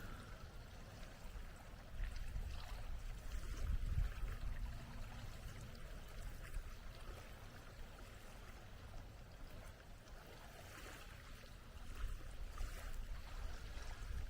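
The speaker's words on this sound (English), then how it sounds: "That's a pretty big boat." A big boat passes on the water, a low steady rumble of engine and wash that swells around the middle and again near the end, distant and fairly faint, with no voices.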